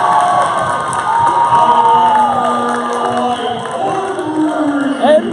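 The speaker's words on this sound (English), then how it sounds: "And the crowd erupts." A basketball arena crowd cheers and roars loudly and continuously after a three-pointer, with whoops and shouts over a dense wash of noise and a brief louder burst near the end.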